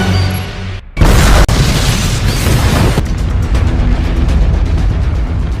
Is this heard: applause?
no